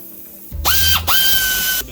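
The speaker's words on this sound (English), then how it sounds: "snug your bolts nice and tight, but don't wrench them down really tight" A powered ratchet tightening valve cover bolts on a Honda Odyssey: two loud, close bursts of whirring motor spin up quickly to a steady high whine, separated by a short pause, with no talking.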